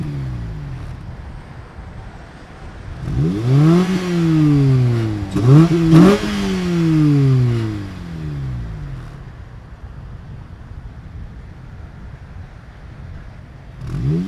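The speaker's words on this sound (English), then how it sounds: "let's get some two-step action with the stock exhaust" A Honda Civic Si on its stock exhaust revs repeatedly against a two-step limiter, with rising and falling engine pulls and a choppy bouncing burst near the middle before settling back to idle, loud and close.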